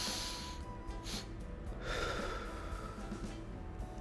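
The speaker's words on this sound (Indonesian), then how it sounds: "Cobain tarik napas panjang lewat hidung 1 kali, terus tarik pendek 1 kali" Physiological sigh breathing, with two inhales through the nose followed by an exhale through the mouth, sounding as close, audible sniffing breaths and a breathy release, with no talk.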